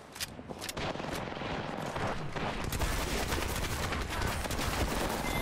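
Rapid gunfire in PUBG, dense bursts of shots crackling in quick succession through the whole span, loud and continuous with no voices over it.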